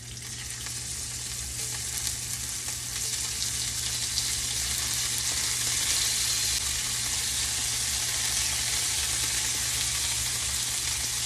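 Shrimp searing in olive oil in a hot pan, a loud continuous sizzle and crackle that swells slightly as it goes, steady throughout with no talking.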